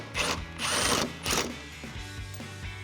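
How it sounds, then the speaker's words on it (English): A ratchet with an extension and 10mm socket turns out headlight bolts on a 2007-2013 Chevrolet Silverado 1500, giving several quick bursts of close, rapid clicking separated by short pauses. "grab your extension and a 10mm socket and let's get this removed"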